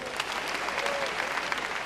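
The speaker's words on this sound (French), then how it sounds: "Les femmes applaudissez pour vous encore." Women in an audience at a 2013 event in Abidjan applaud steadily, a dense, even patter of clapping from a crowd that lasts the whole moment.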